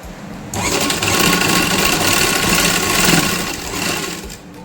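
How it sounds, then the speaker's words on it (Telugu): A sewing machine stitches cut-work fabric together with a lining piece in a continuous, fairly loud whir of rapid needle strokes lasting several seconds, with no voice over it. "సో మూడు ఇలా పెట్టుకొని ఇలా అయితే స్టిచ్ చేసుకొనేసేయండి."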